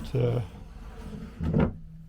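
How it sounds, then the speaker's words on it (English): A small drawer under a table aboard a 1980 Mainship 34T boat slides, giving two short wooden scraping strokes, one near the start and one near the end, close and moderately loud. "It also has a little drawer underneath for I'm not sure what"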